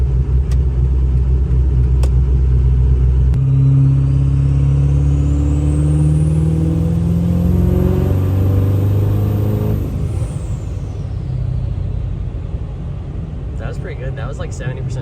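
A 6.0 diesel truck fitted with a Warren IPR pulls away from a stop at about 70% throttle, its loud, close engine rumbling and rising steadily in pitch as it accelerates, with a faint turbo whistle building on top.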